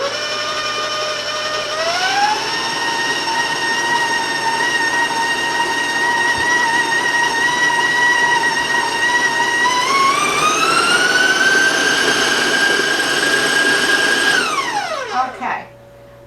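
An electric mixer beats chocolate sugar cookie dough, whirring steadily before stepping up to a higher speed twice and then spinning down to a stop near the end.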